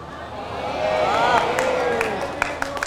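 A mosque congregation at Masjid Hidayatullah in Jambi breaks into a short burst of applause and murmuring that swells and fades, with a few sharp claps near the end.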